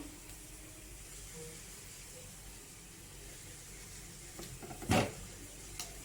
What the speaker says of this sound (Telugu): చూడండి ఉడుకుతున్నాయి పల్లీలు వేగుతున్నాయి కదా